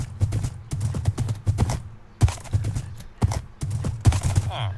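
Horse hooves from the Minecraft video game clop in a quick, uneven series of loud, close thuds, with short pauses between bursts of steps and a faint voice partly under them.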